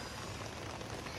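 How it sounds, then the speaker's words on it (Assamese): Light rain falls steadily outdoors where Maggi noodles are being cooked over a fire beneath an umbrella, making a soft, even patter that continues unbroken with no voices. "যিটো আহি আছে অলপ অলপ বৰষুণ"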